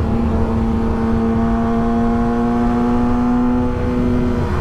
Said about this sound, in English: What the fuck are these things called? Trash truck? Garbage truck.